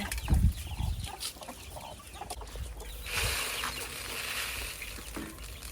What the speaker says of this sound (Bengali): মুরগিগুলোকে ধান খেতে দিয়েছে